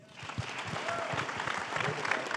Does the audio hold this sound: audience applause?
yes